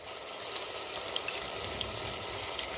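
Garlic and ginger paste frying in a hot pan for Rajasthani dal dhokli gives a steady, dense sizzle that stays loud and even throughout, with no voices.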